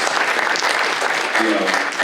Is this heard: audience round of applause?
yes